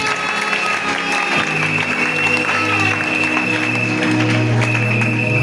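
Applause from the congregation at a New Year's Eve church service, a steady moderately loud clatter of many hands filling the whole stretch, with a voice and a background hum running beneath it.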